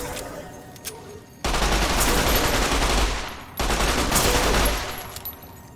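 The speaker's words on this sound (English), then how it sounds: "Now let's get out the submachine gun." Two long bursts of rapid submachine gun fire in Fallout New Vegas, each lasting over a second, loud and close, with a short gap between them and quieter ambience before and after.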